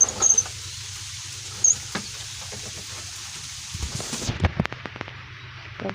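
Freezing rain falling outdoors in the cold, a steady hiss of fine ice pellets with scattered sharp taps and patters on nearby surfaces and no talking.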